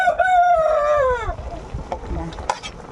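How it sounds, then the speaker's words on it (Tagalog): A rooster crows once, loud and close, its call sliding downward, followed by quieter background clatter. "Sabi ng manok"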